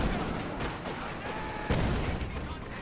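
Dense, continuous rumbling blasts and gunfire-like bursts fill the clip, loud and chaotic with one sharper crack near the end, from a battle in the game Company of Heroes 2.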